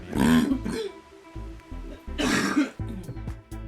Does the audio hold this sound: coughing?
yes